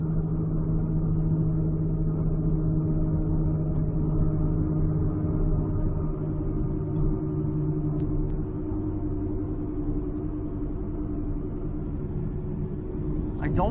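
A 2006 Ford Escape Hybrid hums steadily while driving, a constant low drone with road rumble that holds evenly throughout, with a faint click near the end.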